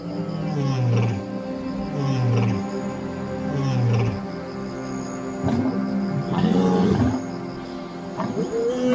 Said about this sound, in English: A male lion's roar reaches an intensity of 114 decibels, equivalent to a close crack of thunder.